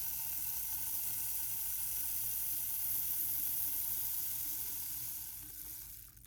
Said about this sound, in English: You can hear that Rainstick starting already.